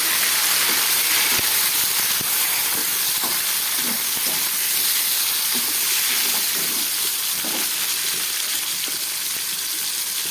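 Chopped stems tipped into a pan of fried tomato and green chilli, hissing loudly and steadily up close, with faint spatters and pops scattered through the sizzle.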